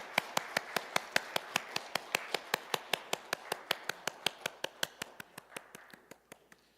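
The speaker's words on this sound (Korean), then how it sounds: "하나님께 영광의 박수 올려드리겠습니다." Church congregation clapping in unison, a quick, even train of sharp claps about five per second that tapers off toward the end, fairly quiet and with no talking over it.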